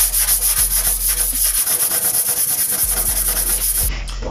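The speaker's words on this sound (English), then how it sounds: "And now I'm just gonna give it a coat of body filler." Body filler is spread and scraped across a panel of a classic Mk2 Mini rally car in steady rhythmic rubbing strokes, close and loud over a constant low hum.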